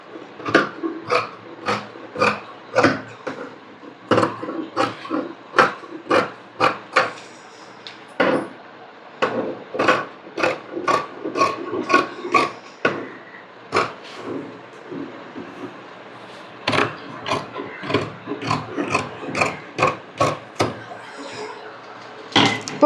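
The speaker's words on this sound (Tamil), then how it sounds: "ஒரே டைமில் நம்ம லைனிங் அண்ட் மெயின் ரெண்டையுமே கட் பண்ணுறேன்." Scissors cut through lining and main fabric layered together for a designer-neck garment, a series of close, crisp snipping crunches in bursts, with short pauses between runs of cuts.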